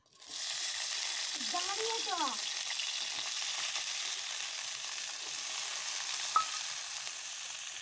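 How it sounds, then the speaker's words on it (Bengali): Beans frying in a little oil in a pan give a steady, faint sizzle throughout, with a brief voice and a small clink partway through. "আমি কোনাতে অল্প পরিমাণে একটু তেল দিয়ে দিচ্ছি বিনসটা ভাজার জন্য"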